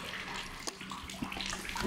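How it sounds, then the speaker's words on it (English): Water gushes steadily from a burst leak flooding into an apartment, a loud, continuous splashing rush like a running tap. "We just woke up to a huge leak in our apartment this morning."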